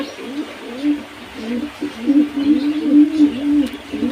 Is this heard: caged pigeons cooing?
yes